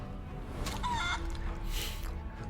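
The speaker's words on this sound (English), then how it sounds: "How would you like to be a chicken?" In the fantasy role-playing game Divinity: Original Sin II, a character turned into a chicken gives a short burst of clucking with rising squawks, loud and close.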